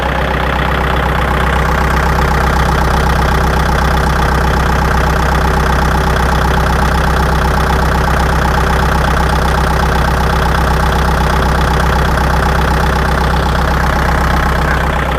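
A 2012 Kubota L4708 farm tractor's diesel engine idles steadily and loudly throughout, a constant low rumble with an even knocking pulse and no talk.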